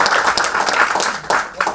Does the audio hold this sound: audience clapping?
yes